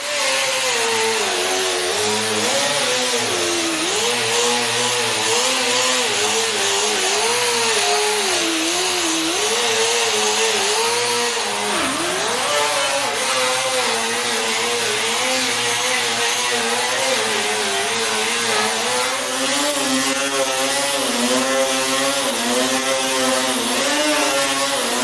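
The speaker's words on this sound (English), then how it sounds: "I'm just going to take that off with 24 grit because there's a lot of surface rust" A power sander with 24-grit paper grinds heavy surface rust off a car body panel, producing a loud, continuous, raspy whine whose pitch wavers throughout.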